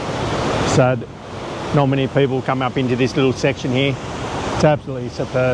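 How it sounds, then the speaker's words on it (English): At Krka National Park in Croatia, a waterfall's broad, constant rushing roar fills the background while someone talks loudly near the microphone. "Just the last of the waterfalls I'm going to film."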